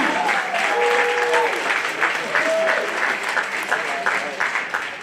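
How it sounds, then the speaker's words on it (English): Audience applause at an FCCLA State Champions 2022 recognition during a high school board meeting, a sustained dense roar of clapping lasting throughout, with some speech and tonal sounds faintly mixed in. "one last big round of applause for the FCCLA State Champions 2022"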